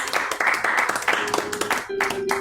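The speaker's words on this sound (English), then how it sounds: "A round of applause, yes?" A small group gives a brief round of applause during a tabletop role-playing session, quick close claps mixed with talk and laughter.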